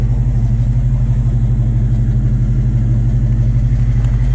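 Classic Chevrolet Super Sport V8 with a Muncie four-speed transmission idling steadily, a loud, even low-pitched engine rumble held close up and continuous throughout, with no speech.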